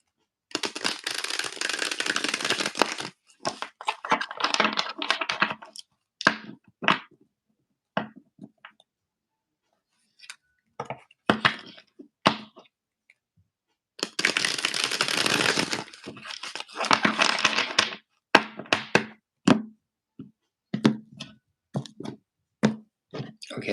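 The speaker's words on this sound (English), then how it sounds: "Okay, that's one deck. I shuffled one." A deck of cards is shuffled in two dense, rustling riffle bursts, one at the start and one midway, separated by sparse clicks and light handling sounds in a quiet room.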